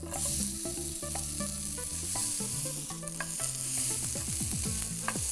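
Onions frying over a high flame in a pan for restaurant-style paneer tikka, with loud continuous sizzling and repeated scraping stirs from a spatula close up, no voices.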